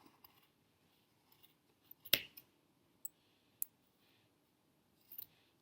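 Scissors snipping yarn for a ghost craft, a few sharp isolated clicks and cuts spread across a quiet background, close and soft.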